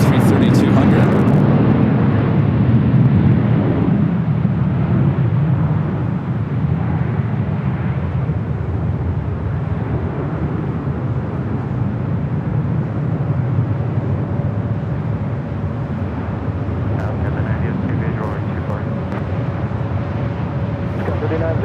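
A LATAM Airbus A330-200 airliner at LAX, a loud jet engine roar that is strongest at first, then settles into a steady rumbling drone with a faint whine, while radio chatter is heard over it.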